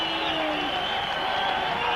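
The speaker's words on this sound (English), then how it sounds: "Big cheer from the home crowd here for the home team." Home crowd at a Whitehaven rugby league match cheering for their team as it comes out against St Helens, a dense, continuous roar of voices at steady loudness.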